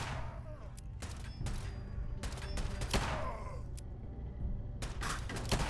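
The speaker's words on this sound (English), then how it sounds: "Maybe the gunshots from an enemy?" Enemy gunfire in the video game Fallout 4, several sharp broadband bursts and volleys spaced irregularly over steady background noise, with brief vocal sounds mixed in.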